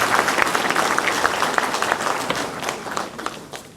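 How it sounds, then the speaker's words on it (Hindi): Audience applause welcoming the chief guest at a parent-teacher meet, dense crowd clapping with many overlapping hand claps, loud and sustained, slowly easing toward the end. "देवी सज्जनों, जोरदार तालियों से हमारे मुख्य अतिथि महोदय का स्वागत करें।"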